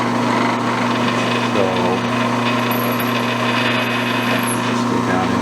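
Drill boring into a cast iron plate on a machine setup, a steady mechanical whir with a constant low hum and faint high squeal, a brief spoken word at the start.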